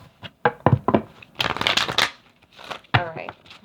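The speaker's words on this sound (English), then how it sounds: "One more shuffle." Playing cards shuffled by hand during a tarot reading, a series of close, crisp riffling bursts and flutters, the longest in the middle, with short pauses between them.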